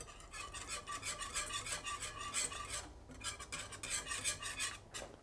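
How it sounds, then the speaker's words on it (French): A metal whisk beating butter sauce with yuzu juice in a pan, steady rhythmic scraping and clinking strokes close up, with a brief pause near the middle, no voices. "Il va falloir monter cette sauce au beurre. C'est le moment où le fouet remplace la spatule."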